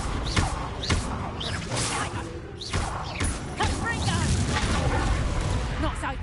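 Incendio fire spell in the video game Hogwarts Legacy: a roaring burst of flame with booming, crashing combat sounds throughout, under dense game effects.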